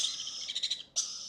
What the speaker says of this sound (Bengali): এই দুইটা হলো লরি পাখি।